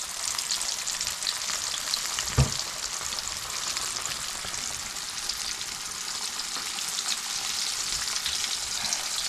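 Red snapper frying in hot oil for fried bigan, a dense steady crackling sizzle close by, with one sharp clunk early on and otherwise unbroken frying.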